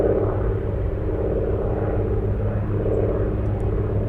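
A National Airlines Boeing 747 at Anchorage produces a heavy, steady low engine drone with layered tonal hum, loud and constant, rising slightly in intensity partway through as the jet passes nearby.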